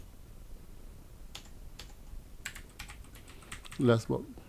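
Typing on a computer keyboard during a login to an admin dashboard: scattered, quiet key clicks in irregular bursts, with a short spoken remark near the end.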